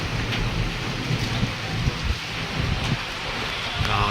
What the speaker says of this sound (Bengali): আরম্ভ হয়েছে বৃষ্টি, প্রকৃতির তাণ্ডব রূপ।